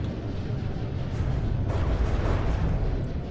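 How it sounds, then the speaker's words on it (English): Continuous rumbling explosions in the video game From the Depths, blasting blocks off a ship, forming a dense, loud low roar that swells louder about halfway through. "All the explosions there stripping off extraneous blocks though, which is always very handy."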